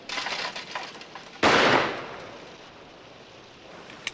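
A single sharp shotgun blast at a clay target cracks out loudly and close, then a reverberant tail fades over about a second, leaving quiet ambience.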